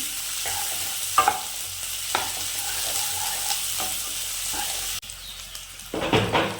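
Around twenty chopped shallots sautéed with chicken in a hot pan, a loud continuous sizzle broken by brisk stirring scrapes, rising into a sharper burst of frying near the end.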